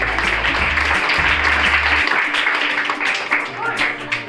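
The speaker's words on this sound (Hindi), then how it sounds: "जोरदार तालियां बजाओ" Classroom applause during a Hindi-language maths lesson on adding the numbers one to nine, a dense burst of clapping from students with a low hum underneath, easing off partway through.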